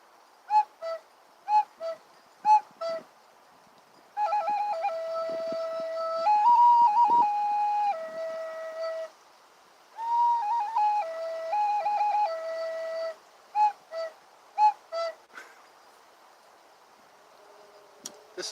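A voice imitates a cuckoo bird with short, hooting two-note calls, alternating with longer sustained whistled tones, clear and close in a quiet setting.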